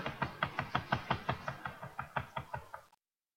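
A mouse button is clicked rapidly to play Cookie Clicker, giving about sixteen quick, even, close clicks over three seconds before stopping abruptly into silence.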